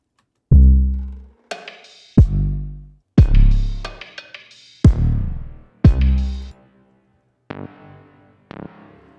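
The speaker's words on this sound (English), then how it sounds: "he's added a kind of like an impact synth, is what I would call it, to lay on top of the 808" A rough impact synth from a Serum bass preset layered on an 808 bass and kick strikes in a series of punchy, decaying booming hits with gaps between them, some quieter and shorter toward the end.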